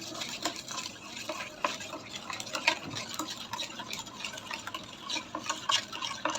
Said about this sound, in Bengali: এবার আমি সব কিছু একসাথে মিক্সড করব